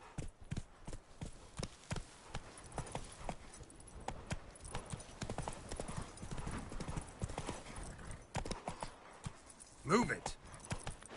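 Horse hooves clip-clopping in The Witcher 3 video game, a steady near rhythm of hoofbeats running throughout, with a short whinny near the end and voices speaking over the ride.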